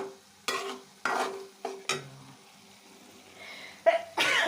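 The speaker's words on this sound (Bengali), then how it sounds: "আঁচলা আলু দিয়ে শুটকি একটু করে ভোরবেলার জন্য শুটকির তরকারি রান্না করতেছি" A dried fish curry with potatoes and okra cooks in a pan, with several sharp bursts of sizzling and stirring clatter separated by quiet gaps, close to the pan, no talking.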